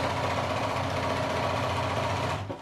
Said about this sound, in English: I'm going to put it right through my machine with that 1/4 inch seam and sew it.